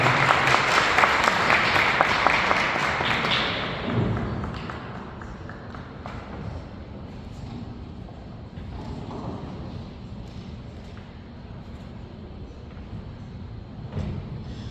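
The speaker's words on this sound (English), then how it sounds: "Please make a round of applause for Dr." Applause from a conference audience greeting a panel member at a professionals' panel event, loud and dense at the start, then thinning out after a few seconds into scattered claps and room murmur.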